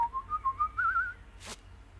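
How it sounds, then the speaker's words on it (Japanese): Whistling from a character in the video game Truberbrook, a clear melodic whistled tune wavering up and down for about a second, followed by a brief soft noise burst, with no talking. "違う口笛でも降りてくる。"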